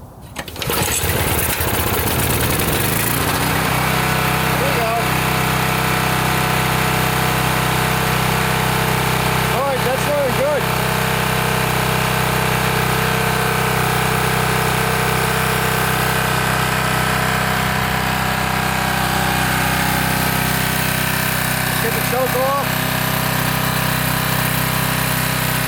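A Coleman 1850 portable generator engine, set on choke, cranks and catches, then runs loud and steady at a constant drone for most of the clip, close by.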